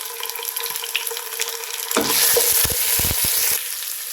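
Ginger-garlic paste frying in hot oil for an egg biryani, a low background hiss that bursts into a loud, crackling sizzle halfway through, with stirring scrapes and no talk.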